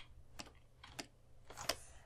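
Keys on a computer keyboard are pressed in a few sparse, distinct clicks for a shortcut during 3D sculpting software work, close and quiet against a faint hum.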